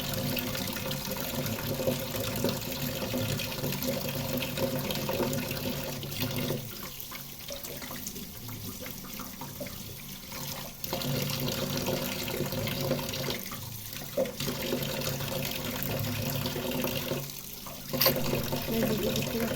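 Tap water runs steadily into a sink while leaves are washed by hand, a continuous splashing flow with brief dips, someone speaking over it.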